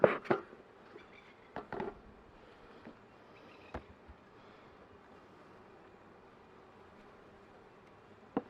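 A faint, steady drone of bees flying around four beehives on a mild winter day, low and diffuse under wind-like background noise, with a few brief knocks and taps.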